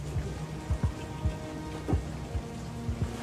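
Rain falls on a hillside community in Brazil, heard as a steady close patter with scattered sharper drops landing on nearby surfaces, with no voices.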